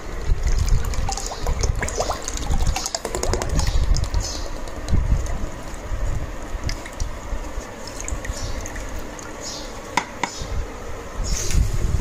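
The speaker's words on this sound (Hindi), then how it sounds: "इसके बाद हम ऐड करेंगे इसमें मैंगो फ्लेवर का फ्लेवर।" Liquid mango flavouring is poured into a mix, giving soft trickling and dripping sounds with scattered small clicks and taps, close and fairly quiet, with no talk.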